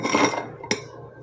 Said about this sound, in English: I'm trying to get like a knife so I can spread it out.